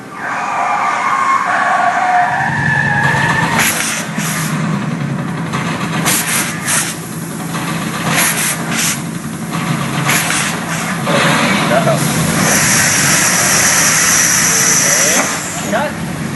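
Motion-control cars drive through a studio stunt run, engines rumbling with hissing and skidding bursts, loud and close, while people talk over the action.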